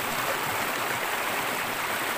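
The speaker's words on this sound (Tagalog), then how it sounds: "ito yung pangalawang falls" Steady, dense rushing of a waterfall and flowing stream on a clear, cold river in Barangay Cumba, Batangas City, continuous and fairly close, with no voices over it.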